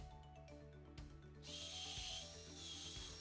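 Power drill boring guide holes into wood during a shop project, a loud steady whine starting after a quieter mechanical lead-in and running continuously up close.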